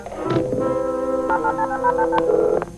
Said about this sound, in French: Le nouveau téléphone priorité de Northern Telecom, avec la fonction ligne directe à la simple pression d'une touche.